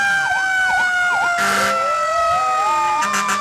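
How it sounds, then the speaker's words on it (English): Fire truck sirens wail and rise and fall in overlapping tones during a lighted Christmas parade, loud and close, with horn blasts and crowd noise around them. "And boy, we're beginning to hear some sirens, James Terry."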